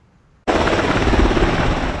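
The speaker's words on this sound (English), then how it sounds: "This Coast Guard helicopter battled 40-mile-an-hour wind gusts as it tried to land near Harbor Drive." After a quiet moment, a loud Coast Guard helicopter roar kicks in abruptly and holds steady, its rotor thumping under a broad rushing wash of 40-mile-an-hour gusting wind near the coast.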